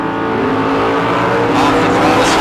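A 1978 Arrow drag car with a small-block Mopar engine launches in a bracket race, its engine roaring and rising in pitch over a brief loud burst, with a second car alongside.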